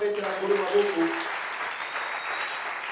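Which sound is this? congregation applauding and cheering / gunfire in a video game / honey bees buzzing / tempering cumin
congregation applauding and cheering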